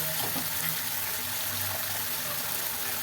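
Water pours into a pot for salted rice in a continuous splashing rush, steady and close, with a faint bubbling undertone and no voices.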